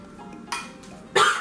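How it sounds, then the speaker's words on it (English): Someone coughs twice in a kitchen, short harsh bursts half a second apart, set off by a strong chili aguachile being prepared, with faint clinks of dishes around them. "Is in the back coughing because the freaking chili is so strong."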